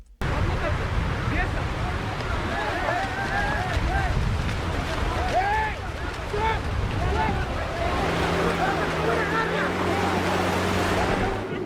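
A migrant boat arrives at a French shore, heard amid steady surf and wind buffeting the microphone, with distant shouting voices and a low engine hum appearing near the end.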